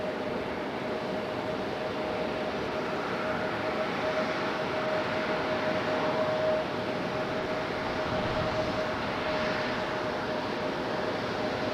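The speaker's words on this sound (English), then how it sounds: "NetJet's from Philadelphia on a Cessna 560 XL citation." A NetJets Cessna 560XL Citation jet arriving at Raleigh-Durham airport gives a steady, moderately loud roar with a thin whine, swelling slightly midway and continuing unbroken, with no speech.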